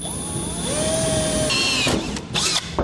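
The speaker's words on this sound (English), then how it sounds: "so you just want to go through with your pilot bit" A power drill with a pilot bit whines at high speed, pitch shifting as it bores through a metal truck bed and frame member, then stutters and grinds toward the end, loud and close.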